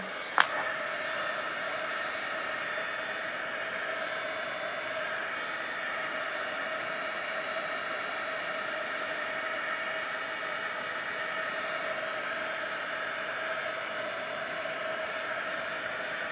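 Heat tool blowing hot air over a junk journal page, a constant close whooshing hum with a steady tone held unbroken for the full length after a faint click at the start, no speech.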